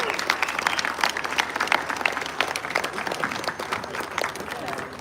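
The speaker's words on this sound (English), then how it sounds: "Another big round of applause for that incredible panel van" Audience applause at the Kindig custom car show awards in Adelaide: a crowd claps steadily and fairly loudly throughout, with a voice on a PA system partly over it.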